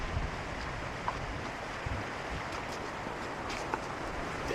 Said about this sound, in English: Welcome to Glencar Waterfall